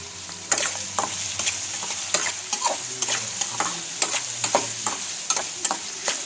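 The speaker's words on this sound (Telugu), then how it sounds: "హై కాదు, లో కాకుండా మీడియం ఫ్లేమ్ మీద పెట్టుకొని ఆనియన్స్ వేయించుకోండి" Onions with salt fry in a pan over a medium flame for a prawn curry, a steady sizzle with brisk, rhythmic stirring scrapes every half second or so.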